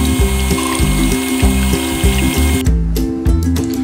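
Four eggs are beaten for red velvet cake batter in a home kitchen, and the beater makes a loud, rhythmic mechanical whirring and clattering in quick, regular pulses that briefly ease off before picking up again.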